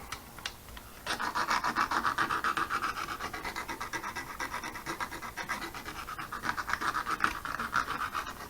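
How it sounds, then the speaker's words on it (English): A sanding stick rubs back and forth over a plastic part of a 1968 Dodge Dart Hemi scale model car, giving a close, steady run of scratchy strokes with no talking. "one of these sanding sticks and smooth that area right there out."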